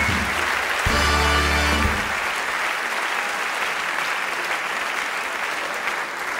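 Loud, sustained applause from a large carnival audience at a Mainz Fastnacht show, continuous clapping with a brief low musical swell near the start, then steady clapping fading slightly.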